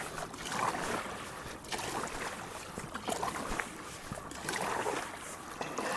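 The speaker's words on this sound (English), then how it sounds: "I'm going to start paddling a lot faster" Kayak paddling on open water near a barge channel, rhythmic splashes and drips of the paddle strokes repeating every second or so, close by, over a soft wash of wind and water.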